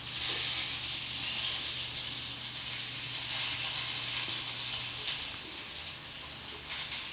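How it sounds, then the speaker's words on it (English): Food frying somewhere in the background while someone cooks, a steady broad hiss and sizzle with a low hum beneath it, continuous and fairly even throughout. "Sorry about the background. Somebody's cooking."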